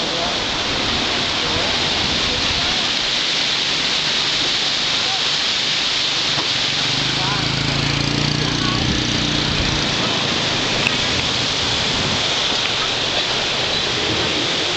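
Thac Bac waterfall rushes in a loud, steady broadband roar of falling water, close and constant throughout, with a faint low rumble swelling briefly in the middle.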